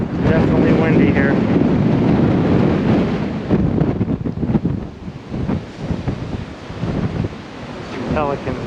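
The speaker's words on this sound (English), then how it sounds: "Into the wind I go." Strong wind roars at Fort Point in San Francisco, a loud continuous buffeting rush across the microphone with gusts rising and falling, someone talking briefly through it.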